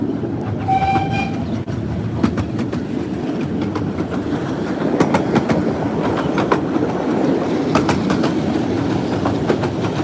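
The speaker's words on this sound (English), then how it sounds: "I can still hear Hercules chuffing, so I doubt it." Miniature steam locomotive Hercules on the Romney Hythe and Dymchurch Railway, rolling along with steady rumbling rail noise, rhythmic clicks and a brief whistle near the start, continuous and fairly loud throughout.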